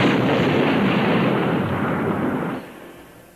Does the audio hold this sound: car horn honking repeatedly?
no